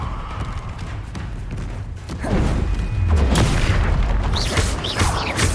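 Explosive spells Bombarda and Confringo cast in Hogwarts Legacy: a low rumbling hum gives way to a loud booming blast at about two seconds, followed by sustained crackling, thudding impacts and whooshing magical effects.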